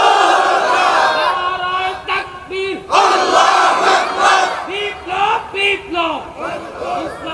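A large crowd at an Islamic religious gathering answers a single takbir call, shouting a slogan together in loud rhythmic bursts, each call followed by a massed chanted response.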